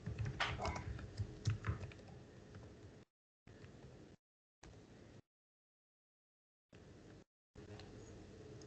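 Someone types steadily on a computer keyboard while writing code, with quiet rapid key clicks in bursts broken by short silent pauses.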